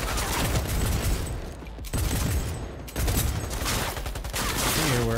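Rapid bursts of gunfire in Cyberpunk 2077 crackle loud and dense in three sustained volleys separated by brief gaps, with booming impacts mixed in.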